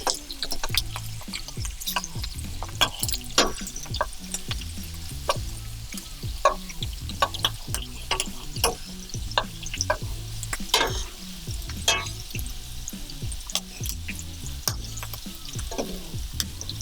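Shrimp frying in a pan: a continuous crackling sizzle with frequent sharp pops and spatters, close and moderately loud, no voices.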